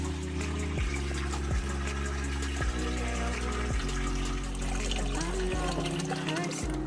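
Water pours steadily into a flowerhorn fish tank holding a clay pot, a continuous splashing rush with a rhythmic low pump thump underneath throughout.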